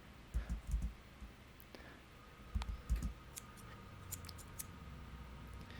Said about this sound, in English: Now I'm going to cut all that hair out of my way.